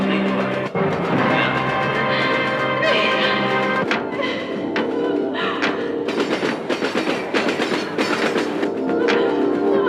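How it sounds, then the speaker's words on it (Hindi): A moving train rolls along with a loud, steady rumble and rhythmic clickety-clack of wagons, close by, with faint voices underneath at times. "अब ये ट्रेन नहीं रुक सकती।"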